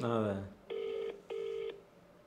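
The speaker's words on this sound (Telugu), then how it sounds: "రింగ్ అవుతుంది." A brief voice is followed by a phone ringing tone, two even electronic buzzes with a short gap between them, fairly quiet.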